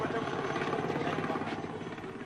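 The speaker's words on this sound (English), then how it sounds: "the choppers return to pick up the soldiers" Military helicopters fly low and close during a 1977 bush war operation, their rotor thump a steady loud chop with a constant engine drone that goes on throughout.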